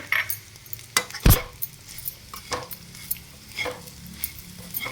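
Dry spice powder mixed with cumin, salt and mustard seeds is stirred in a pan, making close, intermittent scraping and clinking strokes with one sharper knock near the start and no talking.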